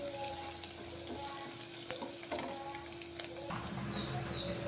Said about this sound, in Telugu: ఈ స్టేజ్లో మనం చికెన్ వేసుకుందాం